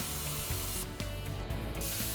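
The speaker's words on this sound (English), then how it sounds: "Pulling or dragging the torch along the cut is more effective than pushing." A Hypertherm Powermax SYNC plasma cutter slices through metal plate with a steady, loud, continuous hiss that holds evenly from start to finish, with no talking.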